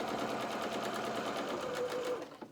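A sewing machine runs steadily, stitching a seam on a doll's pinafore, its fast even motor hum and needle clatter continuous and close before stopping abruptly at the end.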